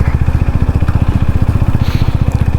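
Overheated motorcycle engine started in neutral on a rough mountain road, idling with a steady rapid thumping pulse, close and loud, no talk.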